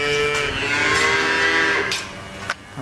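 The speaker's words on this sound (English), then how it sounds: "the cows are fine. You know, they're used to that." Cows on a farm mooing during a blizzard, one long, loud, close low moo held for about two seconds and then tapering off.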